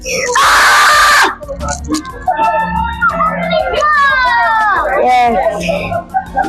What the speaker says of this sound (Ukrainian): Зараз буду кричати.